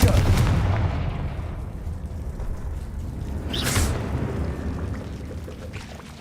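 Confringo blasting spell in Hogwarts Legacy, a heavy booming explosion at the outset decaying into a long low rumble, with a brief bright burst midway, loud and close.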